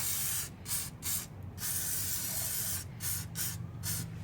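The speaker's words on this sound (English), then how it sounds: "So I'm just gonna spray it on there, let it sit for a bit." Short bursts of WD-40 aerosol spray hiss onto parts of a 5.3 engine, several quick squirts in a row with brief pauses between, close and fairly loud.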